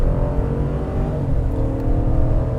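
A 2026 Chevrolet Tahoe's naturally aspirated V8 pulling hard at full throttle, a loud, deep, steady engine drone heard from inside the cabin with no talk.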